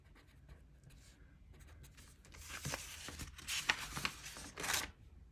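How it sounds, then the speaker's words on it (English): A pen scratches as a person writes by hand on a paper budget worksheet. The scratching is quiet and close, and it grows a little denser and louder toward the end. "So I'm going to have to write it here."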